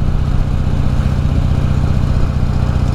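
A Honda motorcycle engine drones steadily close by with a low, throbbing mid-range rumble, holding a constant level without clear rise or fall as another rider passes on the road.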